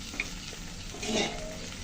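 Water is poured into a hot pan of Bengali prawn curry (chingri macher kalia), setting off a close, steady sizzle and bubbling hiss that swells midway through, with no talking.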